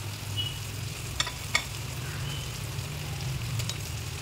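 Onion sautéing in a little oil in a pan, producing a soft, even sizzle with a couple of faint spatula taps, steady and fairly quiet.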